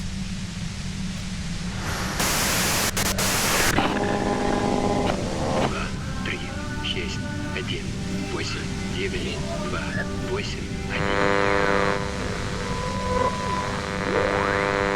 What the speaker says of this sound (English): If you've got something really important to say, you can do it through the white noise.